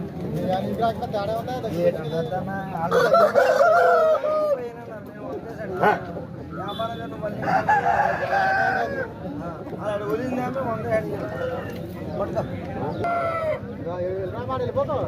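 A rooster crows amid the bustle of a Saturday village country-chicken market, its calls rising over nearby people talking, with other fowl sounds around.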